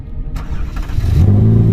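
A Ferrari 458 engine cranks and fires at a shakedown after its rebuild, a brief starter whirr catching into a loud, close, rising engine note with no talking.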